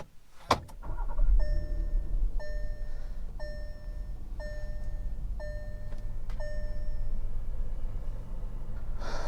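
A 2019 Volkswagen Atlas SE R-Line starts with a sharp crank, then settles into a steady, close idle hum, while a repeating electronic chime pulses several times over the engine.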